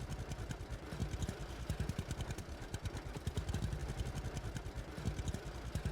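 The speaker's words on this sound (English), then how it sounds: "And here we are on our little tractor." Small tractor engine idling in the farming video game Farmer's Dynasty 2, a steady low rhythmic chugging and clatter, fairly quiet and continuous, heard alone without talking.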